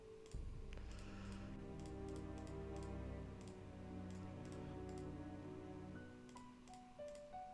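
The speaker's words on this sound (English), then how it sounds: "Sound of typing." Keyboard typing from the Nancy Drew: Treasure in the Royal Tower video game, a steady run of soft clicking keystrokes heard over a low sustained music bed, with a few brighter tones rising near the end.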